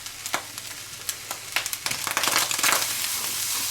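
Nasi goreng sizzles in a hot pan while being stirred, with irregular scraping and tossing clatters over a steady crackle, close and moderately loud.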